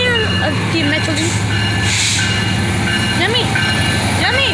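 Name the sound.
train passing on tracks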